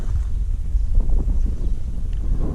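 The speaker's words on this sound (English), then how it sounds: "A little windy." Wind buffets the microphone in a steady low rumble outside old farm buildings, gusting slightly louder in the middle, with no voices.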